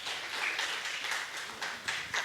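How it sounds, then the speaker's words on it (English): An audience claps for a presenter at a workshop in Kumasi, a light scattered round of applause from a modest crowd, steady and close, without voices over it. "Let's clap for her."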